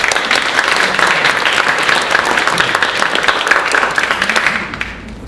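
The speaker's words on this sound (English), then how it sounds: "how about a big round of applause for Dr." A crowd at a business council event applauds a scientist being introduced to speak on the Oso landslide, loud sustained clapping holding evenly for about five seconds before tapering slightly at the end.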